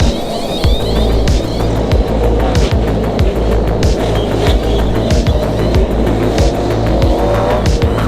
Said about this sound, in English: Wheel straight, put on the brakes.